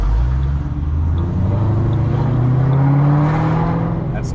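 Ford Mustang GT500 fitted with a Corsa Sport exhaust cruising at about 2,000 rpm in third gear, giving a steady, deep low rumble from inside the car with a slight rise in pitch.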